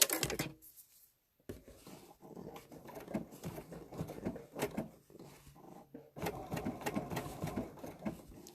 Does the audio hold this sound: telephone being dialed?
no